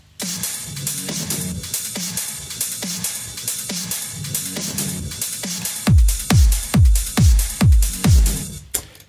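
A drum loop with crisp snare hits, sizzling cymbals and a steady groove; partway through, heavy booming kick hits join in a driving, regular pattern.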